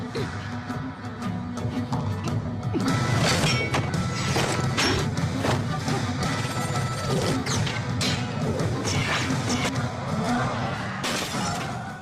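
A fighting puppet doll is smashed to pieces in a dense, loud flurry of crashes, whacks and shattering impacts that keep coming without pause for the whole stretch.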